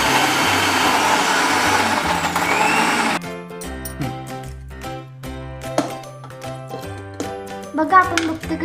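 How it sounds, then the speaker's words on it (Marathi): Mixer grinder whirring loudly as it grinds biscuits into powder for a cake, a dense roar lasting about three seconds before cutting off, followed by talk and faint kitchen clinks. "त्याला मी झाकण लावून आपण मिक्सर मध्ये वाटू."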